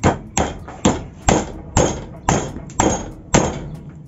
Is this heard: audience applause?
no